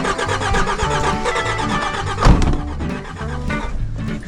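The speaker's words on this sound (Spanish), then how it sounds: "Ahora no arranca el carro." Diesel car struggling to start high on Pico de Orizaba, a repetitive chugging crank of the starter with a brief louder thump midway, the engine turning over without catching.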